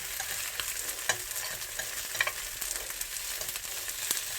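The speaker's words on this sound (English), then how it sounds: "I think I'll cook it on this side a little bit more" Halloumi fries in a pan on a gas hob, a steady close crackling sizzle with a few sharper pops and occasional faint scraping.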